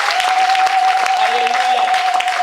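Sustained applause from a church congregation fills the space, dense and even, with a held tone and voices faintly mixed into the clapping crowd.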